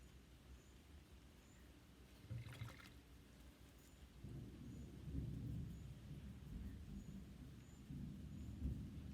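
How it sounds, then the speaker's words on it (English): Soft, steady rain with low rumbles of distant thunder rolling in during a storm in Costa Rica, quiet and far off, with no voices. "I'm in Costa Rica and there's a storm outside."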